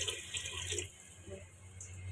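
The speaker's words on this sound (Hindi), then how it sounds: "अब इसमें पानी डाल देंगे।" Water poured into a pan of frying chana daal masala, a soft, continuous gurgling pour with faint sizzle, quiet and close, over a steady low hum.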